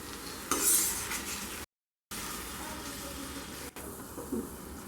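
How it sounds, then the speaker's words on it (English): Fried onions and tomatoes are stirred and cooked in a pan for a Bengali fish head pulao, giving a steady sizzle with scraping and a clink or two, cut by a brief silent gap. "Give it a nice mix and let it cook for 2 minutes now."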